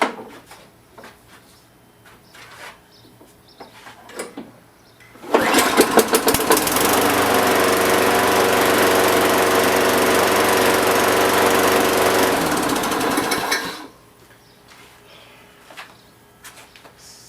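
A Toro Recycler self-propelled lawn mower with a newly installed aftermarket carburetor starts up and runs steadily for about eight seconds at a constant, even idle, loud and close, before being shut off, with quiet clicks and handling noises before and after.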